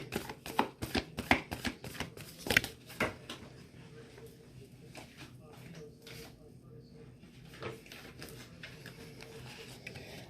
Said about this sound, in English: But one complete shuffle is 3 shuffles in the tarot. So this is the second shuffle.